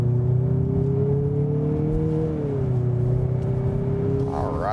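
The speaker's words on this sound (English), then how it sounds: "Put my foot onto the gas." A 2024 Mazda CX-50 accelerates on the road in normal mode, a steady engine drone rising slowly in pitch with road rumble underneath, heard from inside the cabin.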